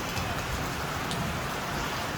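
Steady rain pours down in a dense, even hiss that fills the whole moment without letting up, loud and close with no voices.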